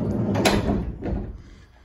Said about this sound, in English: I'll open the side door.